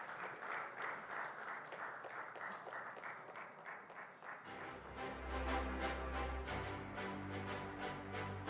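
Audience applause for a speaker at a conference event, a dense steady wash of clapping that swells louder midway as amplified music with a deep bass pulse enters beneath it.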